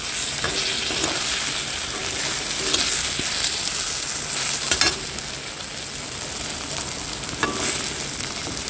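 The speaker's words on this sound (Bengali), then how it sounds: "এই মাছের তেল দিয়ে হচ্ছে বেগুন ভাজা করছি" Eggplant slices frying in fish oil in a pan, a steady loud sizzle with faint stirring clicks throughout, no voices.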